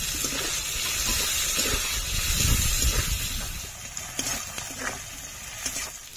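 Chopped onion and tomato frying together in a pan for a rui fish curry: a loud, steady sizzling hiss up close, with soft scrapes and stirring noises breaking through now and then, and no talking.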